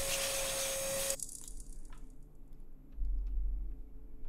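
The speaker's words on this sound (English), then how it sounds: "How do I swap out to the vacuum cleaner?" A vacuum cleaner in the horror game Cursed Baby sucks up dust with a loud, steady whooshing drone and a thin whine for about a second, then cuts off abruptly, leaving faint low rumbles and soft clicks.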